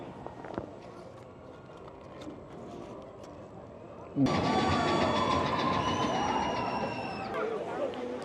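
A roller coaster train on Disneyland's Big Thunder Mountain Railroad clatters and rumbles, growing suddenly louder halfway through with a sustained high squeal of wheels on track.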